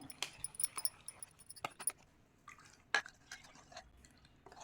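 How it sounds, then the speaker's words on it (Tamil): A spoon clinks and scrapes softly inside a vessel as ragi flour is stirred into water, with quiet drips and light taps in an otherwise calm room. "இப்போ இந்த ராகி மாவில் கொஞ்சமாக நம்ம தண்ணி ஊற்றி கரைச்சிக்கலாம்"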